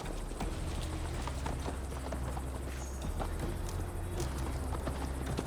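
Horse hooves clip-clop at a steady riding pace in Assassin's Creed Valhalla, rhythmic hoofbeats close by over low ambient rumble, with no talking.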